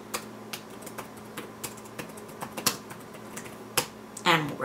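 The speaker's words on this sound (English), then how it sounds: "I'm struggling to type today" Typing on a computer keyboard, scattered close clicks and taps at an uneven pace with short pauses, faint room hum underneath and a brief voice near the end.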